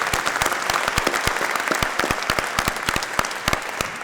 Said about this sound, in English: give them a real quick round of applause by way of thanks